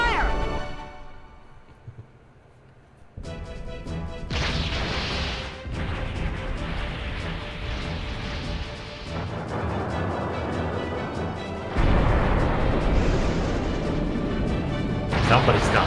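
Valuan Armada cannons firing in a video game battle, repeated heavy booms and crashing blasts over a dense orchestral score, with a voice speaking at the start.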